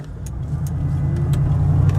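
A 34-year-old truck climbs a hill over potholes, its engine a steady low rumble from inside the cab with a few faint knocks and rattles over the bumps.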